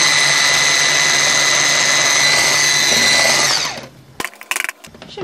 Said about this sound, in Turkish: Tekrar çırpıyorum.